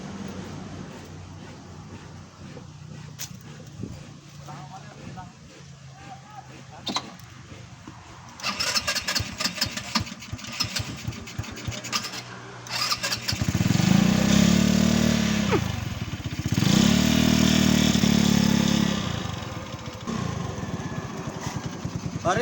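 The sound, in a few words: motorcycle engine starting and revving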